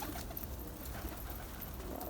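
A pigeon coos softly and steadily, a faint, low continuous murmur with no other clear sounds.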